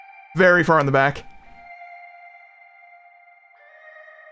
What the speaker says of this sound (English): we also have this really cool glidey synth that goes in the background